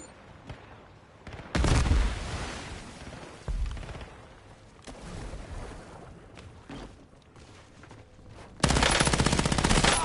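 Gunfire rattles through a Call of Duty Warzone match: loud automatic bursts come in and out, with the two heaviest at the start and end and quieter shots between them, set against a steady background of game noise.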